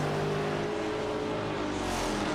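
Maserati MC12 GT1 race cars in a racing video game, a dense, steady engine roar from several cars close together, loud and continuous with a slight rise in pitch near the end.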